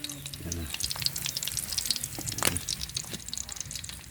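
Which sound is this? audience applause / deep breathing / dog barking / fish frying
fish frying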